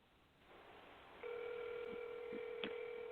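A phone call rings out over a speakerphone, a faint hiss and click followed by a steady electronic ringback tone with a short blip near the end.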